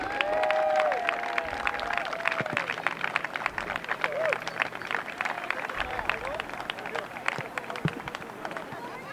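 A crowd of spectators at a boys varsity soccer game claps and cheers for the seniors, a dense patter of applause with a voice speaking over the public address at the start.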